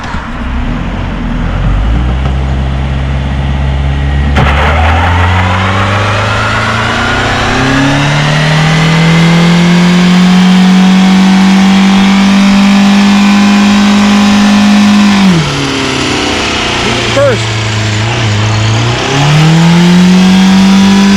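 A car doing a burnout, its engine held at high revs in a loud, sustained roar that climbs and holds, dips briefly near the end, then surges again, close with no talk.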